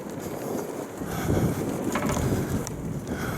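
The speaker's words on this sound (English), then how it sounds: "The wind is not bad today." Gusty wind buffets the microphone outdoors, a steady rumbling roar that swells in the middle, with faint creaks and knocks that could come from a boat.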